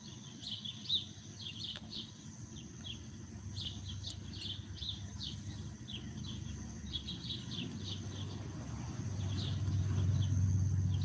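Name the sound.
birds singing at sunset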